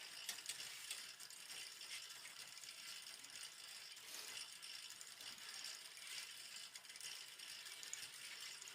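A pedal-powered Piteba oil press pressing sunflower seeds turns its flywheel and mechanism with a faint, continuous ratcheting clatter and light metallic rattling, steady and close.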